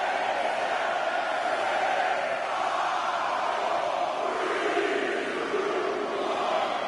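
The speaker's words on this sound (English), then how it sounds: "Listen to this crowd count the next one in." Arena crowd in a wrestling video game, a steady loud wall of many voices chanting and roaring together, rising and falling slightly without a break.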